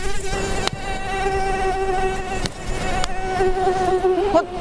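Steady, close buzzing whine of an Anopheles stephensi mosquito, continuous for several seconds with a slight wavering pitch and no voices.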